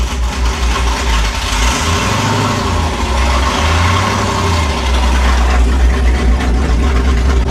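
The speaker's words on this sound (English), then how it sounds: "now that it started idling normally here, got that nice chop going" A modified car engine idles with a lumpy, choppy lope, loud and close, a deep uneven pulsing rumble that holds steady with slight rises and dips in revs, no voices over it.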